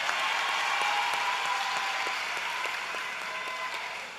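Audience applause for the Minister of Works at a local government reform meeting in Sangre Grande, steady clapping filling the room and slowly tapering off near the end, no voices over it.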